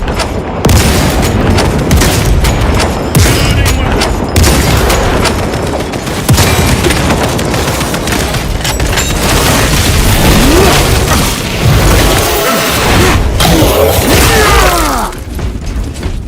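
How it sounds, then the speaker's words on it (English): Frag grenade explosion and gunfire in Space Marine II, a loud, dense barrage of booms and bursts filling the whole stretch with continuous battle noise and no pauses. "Frag grenade deployed."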